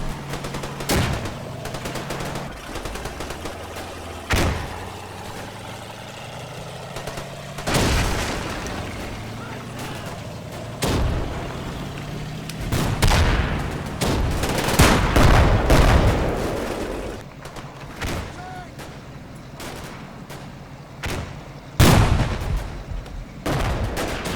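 Tank and artillery fire in the WWII strategy game Combat Mission Final Blitzkrieg: repeated sharp gunshots and heavy booms at irregular intervals, with a dense cluster of explosive impacts near the middle and a loud blast near the end.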